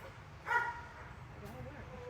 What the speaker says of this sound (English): the dogs are barking at me.